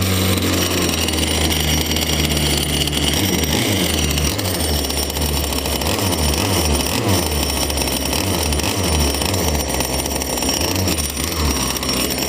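A small outboard engine on a boat runs steadily after a pull start, with its choke just turned off and carb blocked by hand; a loud, continuous rattling putter with slight pulsing throughout, no talk.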